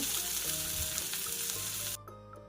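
Butter fish frying on a hot tawa gives a loud, close, crackling sizzle with a few stirring clatters, then drops sharply to a quieter, thinner hiss near the end.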